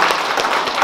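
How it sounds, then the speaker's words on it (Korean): An audience claps at a book launch in Seoul's Jung District, a brief steady burst of many hands applauding at moderate distance. "제목에 무한한 공감이 가신다는 분들은 박수 부탁드리겠습니다"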